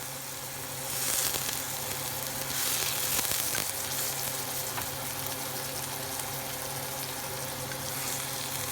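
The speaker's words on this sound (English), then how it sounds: "Saute for another minute." Wild lion's mane mushrooms sautéing in butter in a pan give off a loud, steady, close sizzle that holds evenly throughout with no voices.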